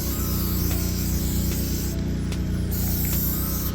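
Spray paint hisses steadily and close up as truck parts for a 1998 OBS truck get coated, a continuous aerosol spray with slight breaks in intensity.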